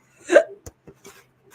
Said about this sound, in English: I have the hiccups, apparently.